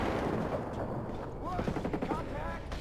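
Gunfire in the video game Ghost Recon Breakpoint, bursts of rifle shots over a rumbling battlefield backdrop, fairly loud and close, with radio-style voices and in-game chatter mixed in.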